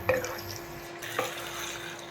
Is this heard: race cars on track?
no